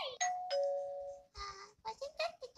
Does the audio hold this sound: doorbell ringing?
yes